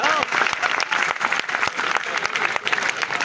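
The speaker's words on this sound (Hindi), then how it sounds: "एक बार मेरे सम्मान में ढंग से ताली बजाओ" A large audience claps vigorously at a Hindi poetry gathering (kavi sammelan) in Ayodhya, producing dense, loud applause that stays steady throughout with a few sharper individual claps standing out.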